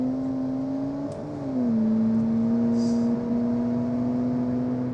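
An 80s American car in the BeamNG driving game, its engine droning at low, fairly steady revs with a smooth tonal hum that dips slightly as it shifts and then holds, close and continuous with no voices.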